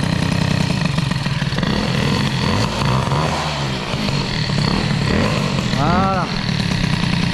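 Peugeot 103 moped engine running at idle, a loud close steady buzzing putter with slight unevenness and a brief rev, someone speaking briefly over it.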